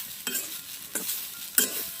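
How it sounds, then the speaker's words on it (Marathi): Grated coconut roasting and being stirred in a pan over a wood-fired stove, with three distinct scraping stirs over a soft, steady sizzle in a quiet kitchen. "आता खोबरं पण चांगलं असं भाजून घेऊया चुलीवरती"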